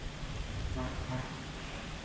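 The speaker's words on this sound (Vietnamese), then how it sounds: "Mưa luôn trời." Steady broadband hiss of rain falling nearby, with a faint voice murmuring briefly underneath.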